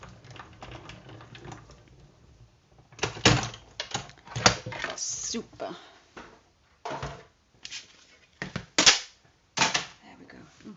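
An embossing folder is run through a die-cutting machine for card making, giving irregular bursts of loud clunking, crashing and banging at close range, with a brief spoken word in the mix.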